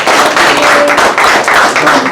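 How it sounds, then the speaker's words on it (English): A crowd at a Maryland community unity event gives a round of applause, a loud, dense wash of clapping that runs steadily throughout with no talk over it. "So give her a round of applause"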